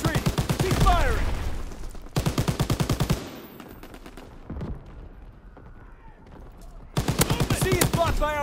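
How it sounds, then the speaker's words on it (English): Rapid automatic gunfire in the World War II shooter Call of Duty WWII rattles in loud, dense bursts, pausing between volleys, with scattered distant shots and explosions in the gaps. "Keep firing."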